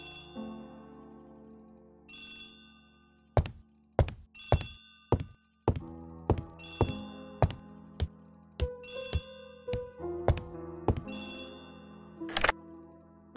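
A telephone rings repeatedly in an Agatha Christie mystery drama, its bright bell bursts coming in a steady rhythm, close and clear, mixed with a few sharp knocks and thunks and no talk.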